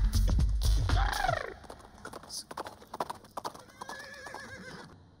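Horse whinnies loudly up close, followed by a run of clip-clopping hooves fading off, with faint bird calls and a second neigh in the background.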